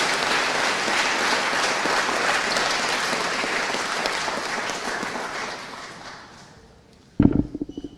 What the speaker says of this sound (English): Let us give your teachers a big round of applause for what they have given you.